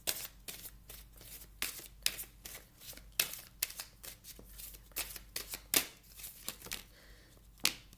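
Tarot cards handled and laid out close up, a quiet, steady flurry of crisp flicks, slaps and shuffling riffles with no talking.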